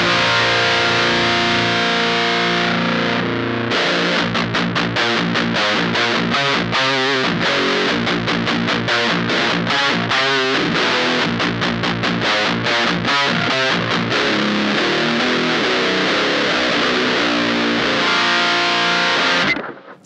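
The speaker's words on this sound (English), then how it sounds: "all of the bass is cut and we've got kind of like a telephone style sound. And that's just with the pedal." Electric guitar driven through an Electric Eye Cannibal Unicorn HM-2-style distortion pedal with the bass control cut, giving a thin, telephone-like fuzz; loud, continuous chugging riff with rapid palm-muted stabs, then a ringing sustained chord that cuts off at the end.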